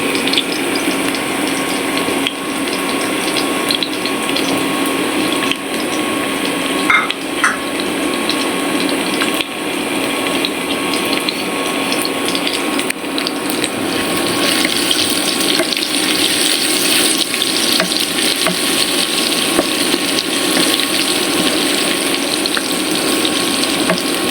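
Oil sizzles in a pan, heating to fry rohu fish in a home kitchen, giving a steady, close, continuous hiss that lasts throughout with small crackles and no talk.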